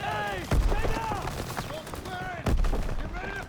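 Grenades explode and gunfire rattles in the Call of Duty: WW2 video game. Two heavy booms land about two seconds apart amid scattered shots, and voices are heard over the fighting.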